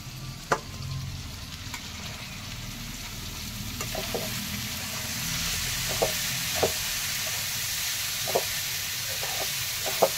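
Banana flower frying in a pan over a village hearth fire, a steady broadband sizzle with a few sharp clinks of a spoon against the pan scattered through, close and continuous with no voices.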